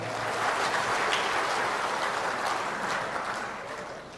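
Sustained applause from a conference audience, steady clapping throughout that tapers off slightly toward the end, with no voices on top, at an Indonesian ministry national working meeting.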